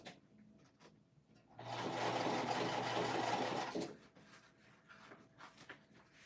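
Domestic sewing machine stitching through thick crocodile-textured vinyl for a bag, a close, loud mechanical run of about two seconds rising from quiet handling noises and stopping abruptly.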